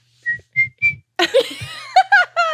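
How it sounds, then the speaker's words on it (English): Three short, clear whistled notes, evenly spaced, are followed by a burst of laughter. "Great whistling. That was wonderful."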